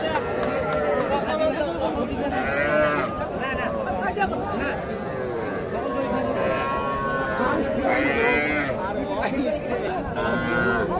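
Cattle lowing and calves bawling amid the busy chatter of the crowded Aftabganj cattle market, with people talking nearby throughout.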